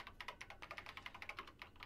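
Keyboard typing from the video game Danganronpa: Trigger Happy Havoc, a steady, even run of close, crisp key clicks at a quick regular rhythm, heard alone.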